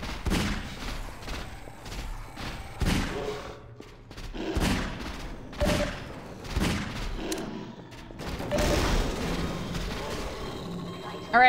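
Gunfire in the video game Half-Life 2: loud, separate shots and short bursts come at irregular intervals, each with a sharp attack and a booming tail. Quieter gaps of game noise fall between the shots.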